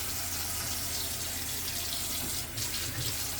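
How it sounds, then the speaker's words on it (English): Tap water runs steadily into a sink while dishes are washed, a constant hissing stream with a brief dip in flow near the end. "we're gonna have to clean dishes because your dishes don't clean themselves"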